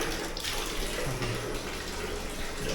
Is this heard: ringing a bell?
no